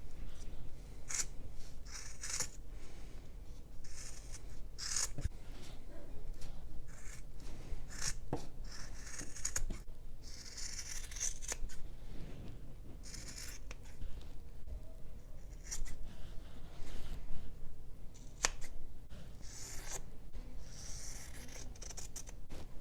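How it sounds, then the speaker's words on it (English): Scissors snipping repeatedly through macrame cord, a string of sharp crisp cuts at an uneven pace over a rustling, scraping background, close and fairly quiet with no talk. "Even all the way up to the very end of the scissors, you can see they still cut all the way to the tip"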